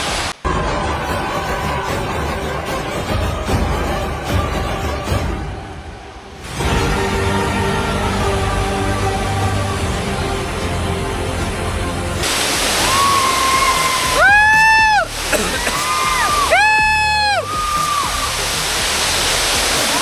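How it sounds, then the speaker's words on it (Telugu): Tarabu waterfall in Andhra Pradesh roars as a loud, continuous broadband rush of falling water, with brief sharp whistling chirps near the end. "తరాబు వాటర్ ఫాల్స్ ఫోర్స్ మాత్రం మామూలుగా లేదు."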